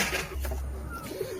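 Pigeon cooing in a brief, close low coo at a home loft, mostly alone with little else around it.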